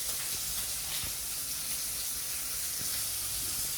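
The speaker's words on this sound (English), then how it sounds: "I'm only going to sear one side of this" Tomahawk steak searing in a hot pan, giving a loud, steady, unbroken sizzle and hiss up close, with no voices.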